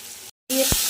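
Pointed gourd and potato fry in hot oil, a close, steady sizzle that cuts out briefly, then returns with a faint tone and a single dull knock from the pan.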